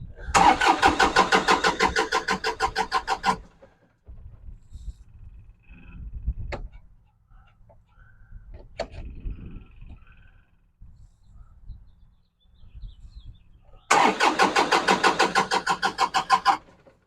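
A diesel tractor on a farm cranks hard in rapid, even pulses without catching, pauses for several seconds of quiet with a few small knocks, then cranks again just as loudly.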